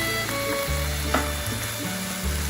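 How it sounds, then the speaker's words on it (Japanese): Ground meat fries in a pan with aromatics, stirred until browned: a steady, close, crackling sizzle with faint scraping and no talking. "香りが立ってきたらひき肉をこんがり焼き付けるように炒める。"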